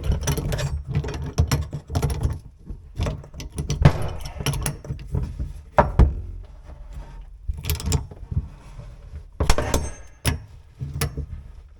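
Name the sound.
wrench tightening brass compression fitting on shut off valve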